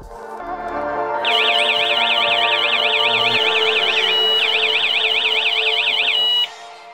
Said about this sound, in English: The local alert is made through the indoor siren included in the package